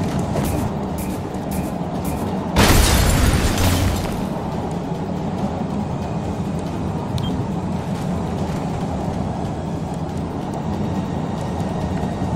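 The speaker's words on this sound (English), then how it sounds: "Throwing grenade." A single loud grenade blast in the video game XCOM Chimera Squad bursts out of a steady background rumble, a sharp broadband explosion lasting about a second and a half before fading back into the ambient drone.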